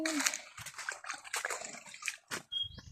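Water at a beach splashing and sloshing near at hand in uneven bursts, with people talking and calling out over it.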